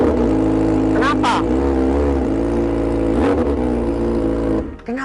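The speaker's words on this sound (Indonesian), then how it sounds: "Nggak pernah denger knalpot kayak gini" Honda CRF motorcycle with a loud aftermarket exhaust revving hard, a close, steady engine drone with sharp throttle blips, ending in a brief drop-off; people talk over it.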